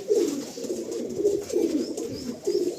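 Pigeons coo repeatedly in soft, throaty bursts, with several overlapping calls rising and falling at close range. The birds are male Andhra high-flyer pigeons, among them a white Fulsira-line Regdar and an Andhra Kalsira, and no one speaks.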